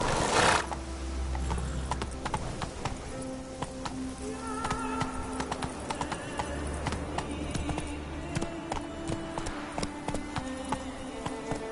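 Hooves of a galloping horse clip-clop in The Witcher video game, a rapid close rhythmic patter running throughout, with a whinny near the start and faint insect-like buzzing in the background.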